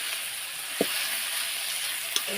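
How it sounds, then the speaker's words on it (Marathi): Bell pepper (capsicum) sizzling as it fries in a pan for a vegetable dish, a steady close hiss with two brief scraping knocks from stirring. "तर हे भोपळी मिरची टाकून घेतले बघू शकता शिमला मिरची त्याला परतून घेते"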